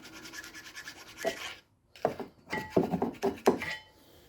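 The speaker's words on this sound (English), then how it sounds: "We just get ourselves a little file, and we can get rid of some of this buildup that's here." A small hand file scrapes rubber and brake buildup off Mercedes-Benz AMG brake parts in a few short, close rasping strokes, with a brief pause between them.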